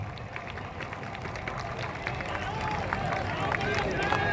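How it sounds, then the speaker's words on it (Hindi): A large crowd at a party event greeting its new president, Manoj Bharti, breaks into dense applause that swells and grows louder toward the end, mixed with a murmur of voices. "सब लोग ताली बजाकर स्वागत कीजिए"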